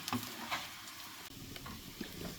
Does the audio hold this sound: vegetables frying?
yes